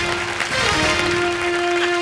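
Dense studio audience clapping on a comedy show fills the clip evenly, with a sustained musical tone ringing steadily underneath.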